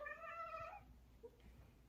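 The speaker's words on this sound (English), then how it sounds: "I'm sure you can hear her meowing." A pet cat named Gigi lets out a single drawn-out, tonal meow that fades after under a second, followed by quiet room noise and a faint short chirp.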